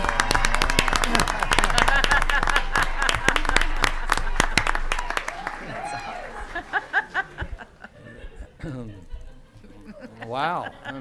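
Audience clapping at a school board meeting, a dense burst of applause that thins out into a few scattered claps, followed by people speaking and some laughter.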